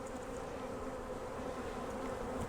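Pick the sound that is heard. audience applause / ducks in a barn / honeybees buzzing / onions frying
honeybees buzzing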